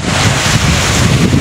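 Strong sea wind roars steadily across the microphone, a loud continuous rush with no pauses.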